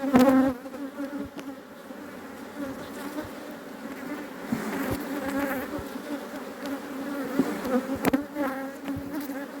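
A bee swarm buzzes inside a wooden hive box, a close, continuous drone that swells and fades with occasional knocks and handling sounds.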